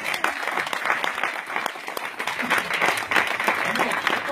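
A church congregation at a night service cheers for Jesus with steady, loud applause, a dense wash of clapping and cheering that holds throughout, with voices mixed in.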